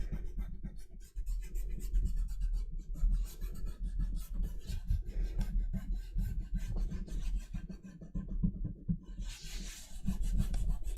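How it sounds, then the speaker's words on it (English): Fabric is rubbed firmly onto a gel printing plate, producing a continuous close scratchy rasp in quick back-and-forth strokes with brief pauses. "you don't normally have to rub this much"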